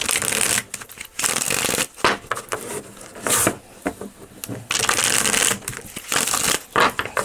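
Cards being shuffled repeatedly, crisp riffling bursts of fluttering paper with short pauses between, close and fairly loud, no talking.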